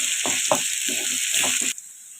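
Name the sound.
frying in oil until golden brown, for ginger chutney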